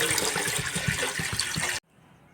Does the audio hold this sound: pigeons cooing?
no